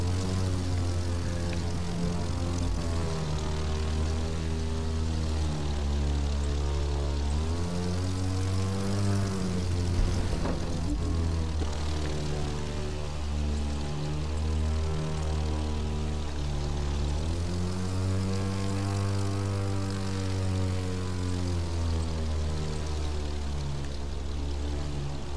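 Propeller airplane engine in the racing game The Crew 2, a steady loud drone with harmonic pitch that rises and dips as the plane maneuvers, continuous for the whole stretch with no talk over it.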